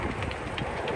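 A miniature steam railway locomotive runs along a model-engineering track, giving steady rumbling with faint clicking of wheels on rail joints, close by, with no talking.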